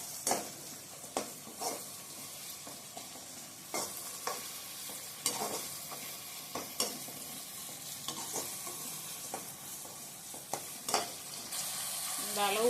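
Ginger garlic paste sizzles in hot oil for a quail gravy, a steady frying crackle punctuated by regular scrapes and knocks of a spoon stirring in the pan, close up with no talking.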